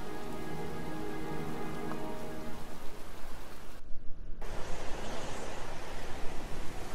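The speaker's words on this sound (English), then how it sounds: "It's pouring rain." Heavy rain pours in the Heavy Rain video game as a dense, steady hiss of drops on surfaces. It sits under faint tonal sounds at first, then grows louder and fuller.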